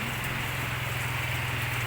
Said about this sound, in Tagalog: hanggang ngayon maulan pa rin ayan